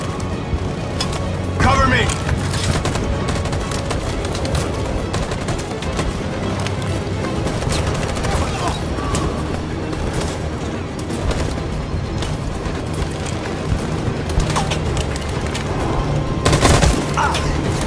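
Sustained gunfire fills a battle scene in Detroit: Become Human, dense rattling volleys and booms running throughout with shouting voices layered on top.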